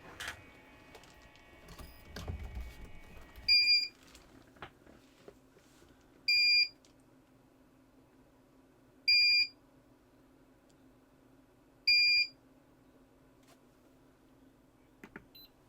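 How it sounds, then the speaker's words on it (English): A cheap 300W inverter sounding its overload alarm, four evenly spaced, sharp electronic beeps a few seconds apart, with faint clicks and handling noise at the start. "So I'm going to guess those 4 beeps in a row or whatever it was is probably an overload"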